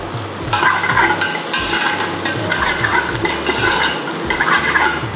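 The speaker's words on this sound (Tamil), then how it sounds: "மீதி இருக்கிற 5 மிளகாவை நம்ம இதில் போட்டுக்கலாம்." Dried red chilies fry in hot oil in a pan for Madurai-style mutton sukka, with a loud, steady crackling sizzle and repeated stirring scrapes running throughout, close and with no voices.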